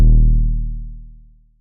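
A single deep 808 bass sample hits loud and close, then its booming low tone slowly fades over a long tail lasting well over a second.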